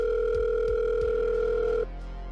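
A phone ringing unanswered inside VRChat: a steady electronic ring tone with short repeating pulses, holding for nearly two seconds before cutting off into quiet room noise.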